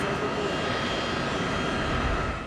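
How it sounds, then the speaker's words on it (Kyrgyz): A Boeing 757 airliner lands at Issyk-Kul airport, its jet engines giving a loud, continuous broadband roar that holds steady and close throughout. "Ошентип көптөн күткөн учакта өз нугу менен аэропортко келип конду"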